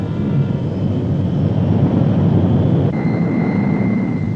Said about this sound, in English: The C-130 Hercules, newest and most versatile addition to the Navy's air fleet, provides an efficient lifeline between the isolated stations and the coastal support base.